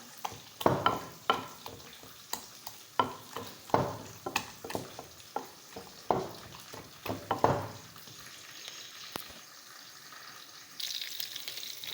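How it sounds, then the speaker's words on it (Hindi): Roasted eggplant being mashed and pounded for baingan bharta, a series of sharp, rhythmic thuds and squishes close by, about a dozen strikes, then a quieter stretch with a soft hiss near the end; no one talks. "बैंगन को अच्छी तरह से कूट लेंगे।"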